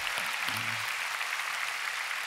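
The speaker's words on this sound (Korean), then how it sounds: "우리 모든 성도들이 박수해 주시고" A church congregation applauds during a Sunday worship service, a steady wash of clapping from many hands across the room, heard at a moderate distance with a brief voice at the start.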